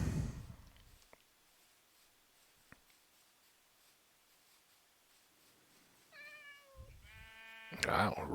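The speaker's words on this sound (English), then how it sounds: "Wow, rogue kitty cat." A cat mob in the Minecraft video game meows near the end, with a few rising and falling harmonic cries after a long quiet stretch broken by two faint clicks.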